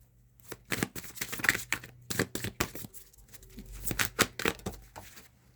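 Tarot cards are shuffled and drawn in quick, crisp flicks and slaps, a steady close run of papery bursts with a brief pause in the middle and no speech.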